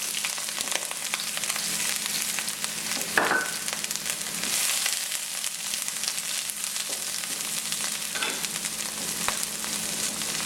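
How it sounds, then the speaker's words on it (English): Onions frying in a pan for a Sri Lankan caramelized eggplant curry, a steady close sizzle with a few brief utensil clinks and scrapes throughout, no talking. "And then we're going to add our onions"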